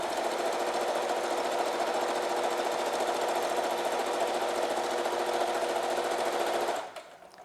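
A sewing machine stitches across the bottom edge of a fabric face mask, closing its opening with one continuous, steady whirring run at close range. The run cuts off just before the end, leaving a faint hum, and no one talks.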